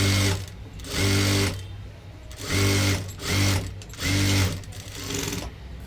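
A sewing machine stitches a size-40 four-tuck blouse in four loud, close whirring bursts of about a second each, separated by short pauses, with no talking.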